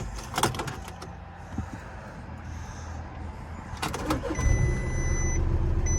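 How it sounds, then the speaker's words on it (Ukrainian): A car door clunks and mechanical clicks sound, then a starter whirs and the cold 2.0 TDI diesel engine of a 2013 Volkswagen Passat B7 catches, settling into a steady, rumbling idle close by. "зараз запустимо автомобіль на холодну"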